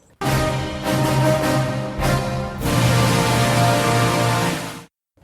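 Short podcast transition music taken from a track: full, sustained tonal chords that swell twice and then end abruptly, playing alone without any talking.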